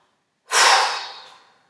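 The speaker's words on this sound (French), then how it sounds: "Et vous soufflez." One deep, breathy exhale during a sophrology breathing exercise, close and clear, starting abruptly after silence and slowly fading out.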